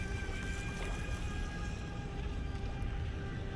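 A DEERC Challenger 2104 RC boat spins around on water, its motor giving a steady, high electric whine with water splash and wash underneath, continuous and fairly close, with no talk.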